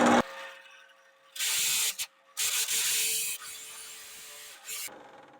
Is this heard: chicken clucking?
no